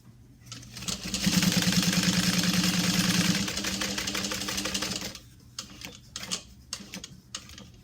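A sewing machine stitches fabric with thread at a stitch length of 3. It runs in a steady, fast mechanical rattle for about four seconds, eases off, then gives a few short bursts of stitching. The sound is close and loud and no one talks.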